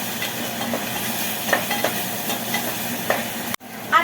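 Curry leaves crackle and sizzle in hot oil while being stirred, a steady frying hiss with scattered pops and scraping, followed by a brief cut and a clink.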